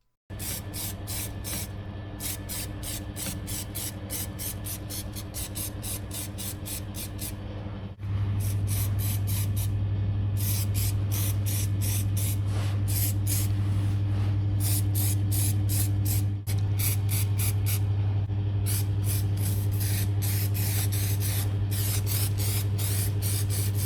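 Janelite rust converter is sprayed onto the rusted underbody of a Jeep Cherokee, with long continuous aerosol hissing bursts broken by short pauses and a steady mechanical hum underneath, close and loud throughout.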